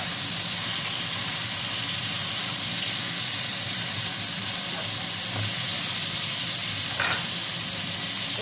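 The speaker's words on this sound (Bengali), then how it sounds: "এবার একটা নাড়া দেবো।" Sliced bitter gourd fries in a pan with a loud, steady sizzle and steamy hiss, and a few soft stirring scrapes rise faintly above it, close by.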